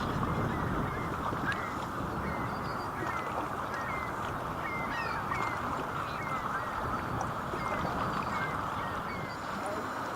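North American mallard ducks at an urban pond quack and call repeatedly over a dense, steady outdoor wash of background noise, the calls moderately distant and scattered throughout.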